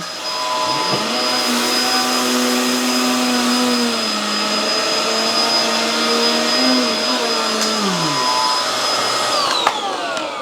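A Hoover Tangle Guard vacuum cleaner runs on high suction, a loud, steady motor whine close by with its pitch sagging and recovering as it works, then cutting off near the end.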